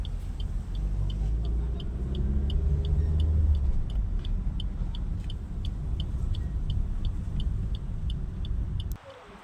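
A car driving slowly and turning around on a residential street, a steady close engine rumble with a regular ticking indicator throughout, ending abruptly.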